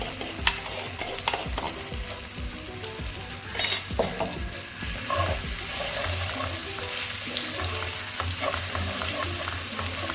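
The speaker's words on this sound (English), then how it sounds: "So now I'm going to add minced ginger garlic and some chili." Minced ginger, garlic and chili sizzle in a pan with onions while a spoon stirs and scrapes them, a steady close frying hiss with no voices.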